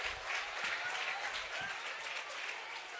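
During a student stage drama, an audience applauds the leader character with dense, continuous clapping that holds steady throughout, fairly loud, with crowd murmur underneath.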